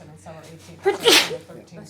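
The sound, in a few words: sneeze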